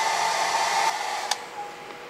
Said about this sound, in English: running her hairdryer and showing 500 watts